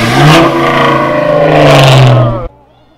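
A Ford Mustang engine revs loudly and close for about two and a half seconds, a rising and falling growl that cuts off abruptly into near silence.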